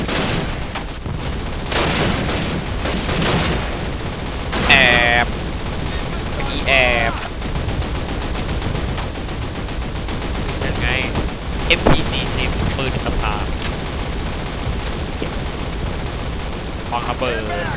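Rapid, continuous gunfire from Call of Duty, with dense machine-gun bursts and sharp single shots layered together at close range and steady loudness throughout, while a voice talks over it.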